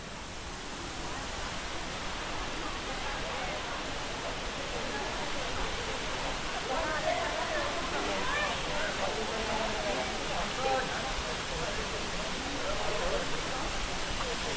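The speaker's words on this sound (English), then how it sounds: "Finally, we're at Baba waterfall." Baba waterfall in monsoon season roars as a dense, steady broadband rush of falling water, loud and unbroken throughout with a voice faintly underneath.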